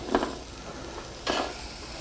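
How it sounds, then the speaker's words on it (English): Butternut squash sizzles steadily in hot oil, with two louder bursts of crackling as pieces are stirred or pushed into the pan. "And you got that nice sizzle. Hear that sizzle?"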